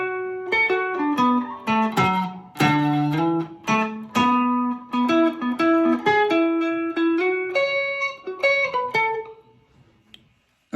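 A clean electric guitar plays a melodic solo section from a 1978 version of a song, with quick picked notes and short runs, moderately loud, alone, fading out at the end.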